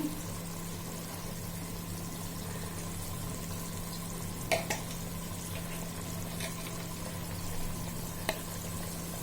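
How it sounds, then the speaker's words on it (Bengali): Ghee goes into a pot for beef shahi biryani, giving a steady, fairly quiet sizzle and hiss with a low background hum and a couple of brief clinks near the middle and end. "ঘিটা দিয়ে দিচ্ছি।"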